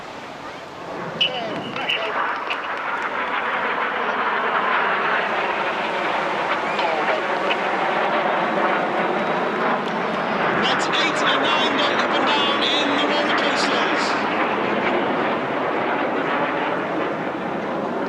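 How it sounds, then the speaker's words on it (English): Red Arrows jets diving to about 100 feet over the sea at the Clacton Airshow, a broad continuous roar that swells and stays loud, with a commentator talking over it throughout. "Each aircraft will now dive down to approximately 100 feet over the sea."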